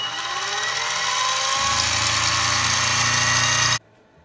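Harbor Freight mini mill cutting metal stock while squaring its sides: a loud, steady motor whine with a deeper grinding hum that joins partway through, stopping abruptly near the end.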